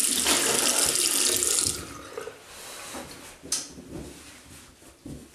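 Cold water runs from a tap into a sink for rinsing after a shave, loud and steady for a couple of seconds, then easing into softer splashes and drips.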